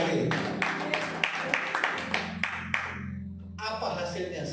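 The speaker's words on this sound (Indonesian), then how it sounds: "Tepuk tangan bagi Allah ini" A church congregation claps during a sermon, with a run of distinct sharp claps over a sustained musical hum. The clapping thins and stops near the end, and a brief pause follows before the sound resumes.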